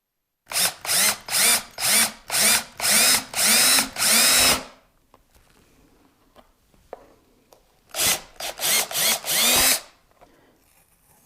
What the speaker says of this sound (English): we can drill a hole in our new fender